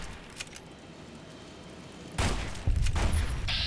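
Brush gun rifle fire in the video game Fallout: Tale of Two Wastelands: a sudden loud burst of gunfire after a quiet stretch, then heavier repeated shots and booms that keep going to the end.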